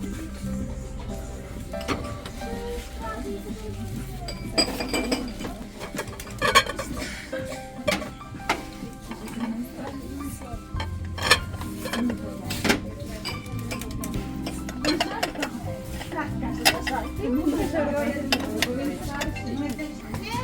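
Light clinks and taps of clear glass salad bowls ring out sporadically over a low background hum in a store, close by and fairly soft.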